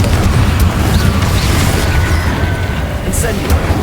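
Confringo explosion spell cast in Hogwarts Legacy, a loud, continuous booming blast with dense low rumble and crackle lasting throughout, with game sound layered on top and no clear pause.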